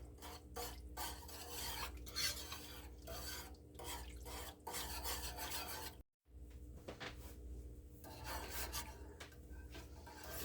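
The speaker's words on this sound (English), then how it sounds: "as I'm mixing, you can see it's getting all nice and stringy" Homemade melted cheese sauce being stirred in a pot over low heat, a continuous close rasping, scraping rub of the utensil against the pot with brief pauses.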